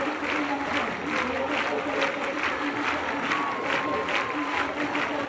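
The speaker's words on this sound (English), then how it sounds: "Clapping for Jesus, the Phaneroo International Ministries congregation is breaking the record" Sustained applause from a large church congregation packed into a multipurpose hall, a dense, steady wash of clapping that continues unbroken throughout.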